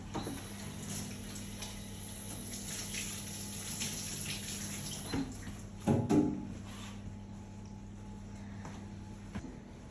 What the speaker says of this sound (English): And then washing my hands again after touching the patient